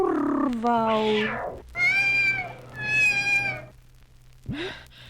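A cat gives several drawn-out, wavering meows in a row, loud and close, the last one rising briefly before cutting off.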